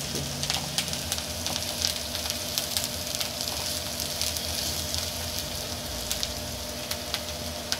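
Vegetables frying in a pan over a high gas flame, a steady crackling sizzle with small pops throughout, close and unaccompanied by voices.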